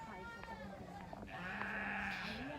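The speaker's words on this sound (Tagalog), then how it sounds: "yung goat. Kanina pa yung nag-iingay." A young goat bleats in a wavering, nasal call on a mountainside in La Trinidad, Benguet, fairly close and steady across the moment, with faint outdoor background.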